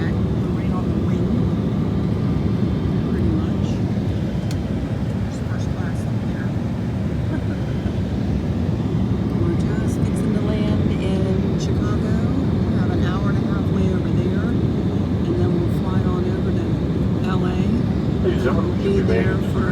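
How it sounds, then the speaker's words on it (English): Inside a small Embraer jet seated right by the wing while coming into Chicago, a loud, steady broadband engine and air roar fills the cabin without letting up. "Coming into Chicago, we're on a little Embraer jet, right on the wing."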